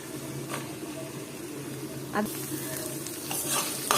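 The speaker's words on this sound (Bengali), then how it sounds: "তেলটা গরম হয়ে গেছে এখন দিয়ে দিব পেঁয়াজ কুচি" Chopped onion hits hot oil in a pan while cooking a coral fish bhuna, giving a steady, fairly loud sizzle with scraping stirs and occasional utensil knocks.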